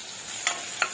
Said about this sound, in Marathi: 1 चमचा हिंग घालूया, कांदा घालून घेऊया आपण।